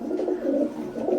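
Teddy pigeons from an imported Oman bloodline breeder stock coo softly nearby, low throaty rolling murmurs overlapping in a short continuous burst with no voices.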